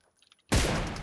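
Gunfire in PUBG Mobile, a single loud, sudden burst of shots that erupts after a brief quiet moment and rings on with echoing noise.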